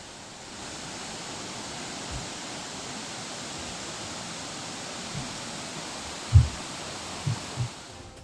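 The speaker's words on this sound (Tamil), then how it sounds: "தொடர் மழையால் குற்றாலம் மெயின் அருவியில் காட்டாற்று வெள்ளம்" Flash flood water rushing over the Courtallam main waterfall after continuous rain, a dense steady roar of broadband noise with a few low thumps near the end, no voices.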